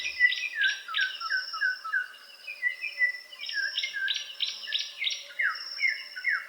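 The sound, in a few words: forest birds calling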